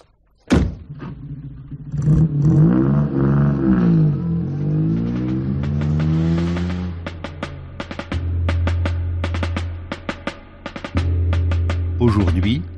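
A car in a radio drama thumps its door shut, then its engine starts and revs in rising and falling sweeps before settling into a steady idle drone. Closer clicks follow, and a voice speaks briefly near the start.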